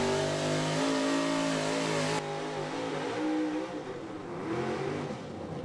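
A 1979 Chevrolet pulling truck, the Flying Farmer, roars at full throttle down a truck-pull track, its big-block engine loud and close with a sustained revving note that shifts abruptly partway through and then keeps surging.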